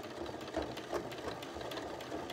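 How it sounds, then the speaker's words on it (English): A sewing machine runs steadily as it top stitches along fabric and back tacks at the end of the line, a continuous close mechanical whir with slight pulses and no talking. "it's just finishing off that line of the top stitching that we did"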